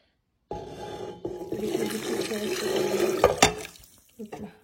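A pot of water is poured over meat in a cooking pot in a home kitchen, a steady close splashing and trickling pour lasting several seconds and tapering off, with a person speaking over it.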